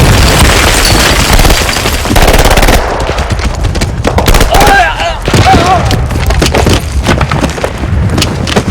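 Loud, dense machine-gun and rifle fire with heavy booms from grenades during a trench assault in a Finnish war film, rapid bursts nearly continuous throughout, with shouted voices mixed into the chaos.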